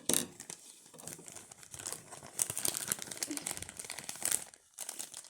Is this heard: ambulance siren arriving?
no